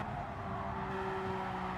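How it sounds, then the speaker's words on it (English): A race car in Gran Turismo 7 accelerates with the throttle held down, its engine a steady, loud drone with a sustained tone that holds through the short stretch, nothing else heard over it. "There we go, throttle down."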